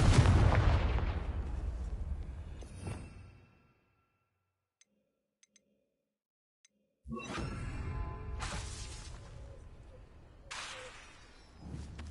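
Confringo fire blast spell cast in the Hogwarts Legacy video game: loud whooshing, booming blasts with crackling bursts, a silent gap in the middle, then further explosive bursts and rumbling impacts.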